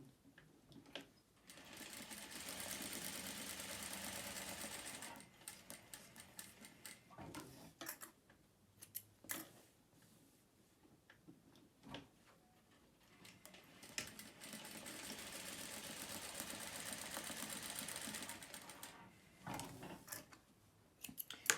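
A sewing machine stitches a cloth face mask in two bursts of steady whirring, separated by quiet handling clicks and fabric shuffling, heard close and alone.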